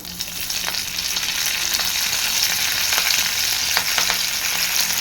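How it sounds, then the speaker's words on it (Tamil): Mustard seeds, curry leaves and coriander fry in hot oil with a loud, continuous close sizzle, dotted with occasional sharp crackles and pops. "கடுகு நல்லா பொரிஞ்சு வந்ததும் கருவேப்பிலையும் கொஞ்சம் கொத்தமல்லியும் சேர்த்துட்டேன்"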